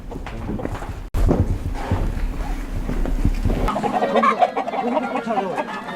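Chickens cluck and squawk close by in a busy, agitated flurry, with scuffling and a sharp knock early on.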